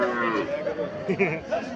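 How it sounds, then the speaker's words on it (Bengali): A calf moos in a few drawn-out, wavering calls, close by, at a cattle market in Chandimura, Comilla, with people talking faintly in the background. "বাছুরটা কি জাতের বাছুর?"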